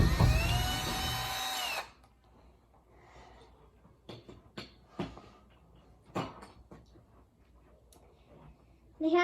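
A power drill whirs loudly for about two seconds on closet door handles, then stops, leaving scattered clicks, taps and soft handling noises before a brief restart at the very end.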